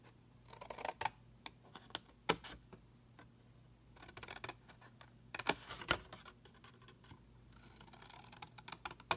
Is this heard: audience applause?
no